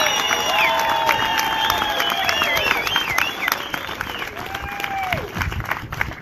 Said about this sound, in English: So how about a round of applause for President Donald Trump?